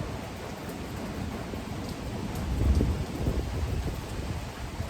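Rain patters on a metal roof on a breezy day, a soft, steady hiss of drops that stays low throughout, with a brief heavier swell midway and no voices.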